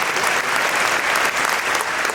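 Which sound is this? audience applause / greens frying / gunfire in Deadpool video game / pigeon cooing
audience applause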